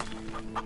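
Brief, soft clucks from leghorn chickens in the PS4 farming game Farm Together come through over a constant background drone of game music.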